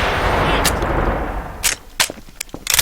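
Gunfire in a video game is heard as a booming, decaying blast, followed by several sharp, close shots at irregular intervals.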